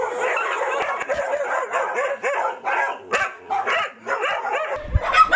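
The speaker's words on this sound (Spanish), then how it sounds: "don Osmín Leiva y su esposa fundaron hace varios años en el municipio de Sensembra, en Morazán, un hogar donde cuidan a más de 40 perros" Many dogs bark and yip in a rapid overlapping chorus at a dog shelter in Sensembra, Morazán, home to more than forty dogs, close and continuous with brief pauses.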